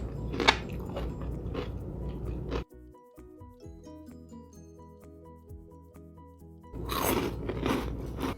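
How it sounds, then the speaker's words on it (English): A judge biting into homemade croutons that were slightly underbaked, a few close, sharp crunches and chewing sounds, with a quiet stretch in between and more crunching at the end. "when I hear the crunch coming out of the judge's mouth"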